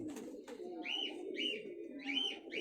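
Dab and Missay pigeons coo softly in repeated low, rolling calls over a steady murmur of background noise, with a couple of brief sharp clicks near the start.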